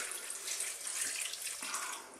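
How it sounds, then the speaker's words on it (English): Water poured into a pan of still-hard vegetables for a sausage and baked bean stew, a steady, close splashing pour that runs without a break and with no talking. "That's why I'm going to add here just a touch of water."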